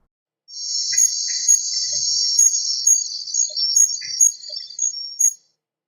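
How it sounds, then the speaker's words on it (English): Costa Rican rainforest insects recorded in 2008, a loud continuous high-pitched cricket-like trill with a few sharp chirps breaking through, close and clear with no voices. "ecologists are installing microphones in the rainforest to listen for the vanishing. Listen to this recording from 2008."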